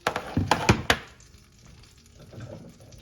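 Small diced potatoes dropped into a hot buttered pan taken from the oven, landing in several quick close thunks and clatters before settling into a faint, soft sizzle.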